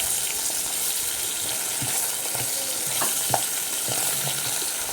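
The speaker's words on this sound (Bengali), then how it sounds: "মাছটা বসিয়ে দিয়েছি, একটু ফ্রাই করে তারপরে হচ্ছে শিম বিচিটা দেবো।" Pabda fish frying in hot oil makes a dense, steady sizzle and crackle that stays even and fairly loud from start to finish, with a few soft clinks and no voices.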